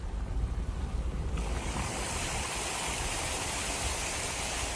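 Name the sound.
car driving through flood water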